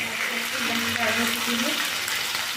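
Pieces of katla fish sizzle steadily in hot oil in a pan, frying on their second side after being flipped; a dense, continuous crackle stays close and even throughout, with no voices.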